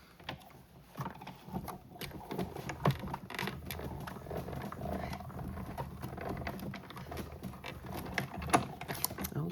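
A hand-cranked die-cutting machine grinds and clicks softly as a card sandwiched between acrylic pads rolls through, with faint irregular mechanical ratcheting throughout.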